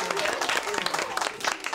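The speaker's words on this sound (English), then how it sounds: "give yourself a big round of applause" Children in a music lesson clap for themselves after a rhythm exercise, a short burst of scattered, uneven hand claps at close range.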